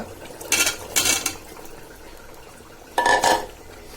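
Cut radish pieces dropped into a metal pot of beef bones, three short clattering bursts of splashing and scraping against the pot, close and fairly loud with quiet gaps between.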